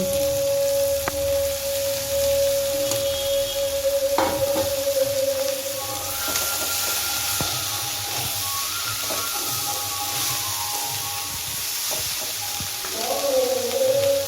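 Kolai shak greens hit a hot pan and fry with a steady, close sizzle and hiss that runs the whole time, broken by occasional stirring clinks and scrapes.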